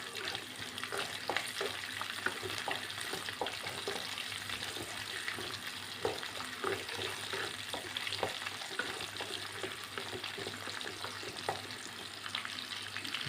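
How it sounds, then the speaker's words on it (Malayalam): Green chillies and shallots fry in oil in a pan for a chicken stew, a dense steady sizzle with soft stirring scrapes throughout, close and unbroken, with no voices. "മൂന്ന് പച്ചമുളകും ഇത് നല്ലപോലെ നമുക്കൊന്ന് ഫ്രൈ ആക്കിയെടുക്കാം"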